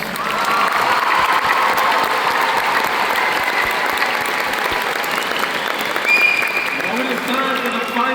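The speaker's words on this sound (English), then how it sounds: "Give yourselves another hand of applause." A graduation crowd gives sustained, loud applause, thick steady clapping with a few cheers that holds for several seconds before tapering slightly at the end.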